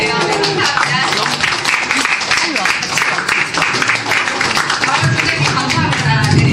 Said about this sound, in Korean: 여러분 케이크를 박수로 한번 맞아주세요